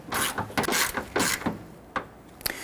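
A ratchet snugs down the fender-mounted headlight bolt on a 1992–1996 Toyota Camry in several short bursts of close, crisp clicking, separated by brief pauses, with no talk over it.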